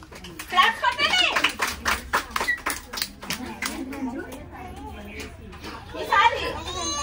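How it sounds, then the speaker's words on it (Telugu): Children clapping at an Anganwadi preschool event, a quick burst of many small hands that fades, with an adult and children talking around it. "క్లాప్స్ కొట్టండి."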